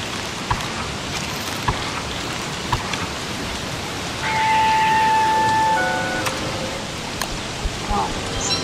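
Steady, dense rain in the video game Don't Starve hisses evenly throughout, with a short tonal beep partway through and a few faint clicks.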